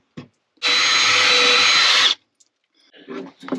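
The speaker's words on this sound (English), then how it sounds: "Drilling my holes in my bunkie" A power drill bores holes into the wall of a small bunkie cabin, whirring in one steady, loud burst of about a second and a half. Brief voice fragments come before and after it.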